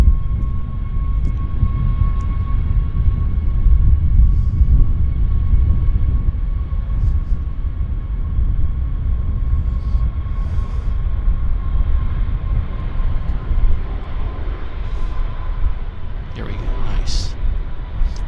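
Jet airliner taking off at Vancouver Airport, a loud continuous engine roar with a steady whine, heard from a distance along the runway and holding throughout.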